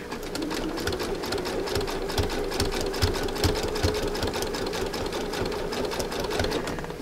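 A sewing machine zigzag stitches fabric-covered rope coils together for an urn, running steadily with a fast, even mechanical chatter throughout at close range.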